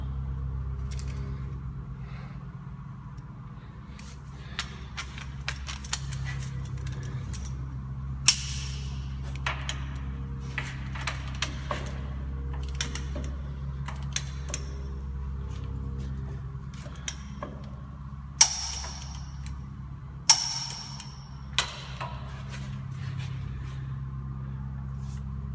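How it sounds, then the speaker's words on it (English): A torque wrench works on the lower ball joint nut of a Chevy Express van, giving scattered sharp metallic clicks and ratcheting snaps over a low steady background hum. "Now torque the lower ball joint nut to 94 foot-pounds."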